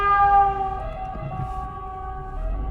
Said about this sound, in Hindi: और ये भी एम्बुलेंस आ रही है, देखें सब कैसे रास्ता देते हैं।